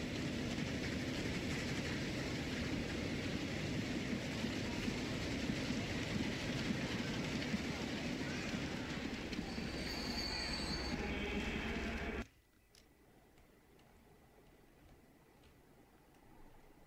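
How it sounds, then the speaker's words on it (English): A train in a video game rumbles along the rails with a steady loud rolling roar and faint clicking, then cuts off abruptly to near quiet. "We're going to need another train in here."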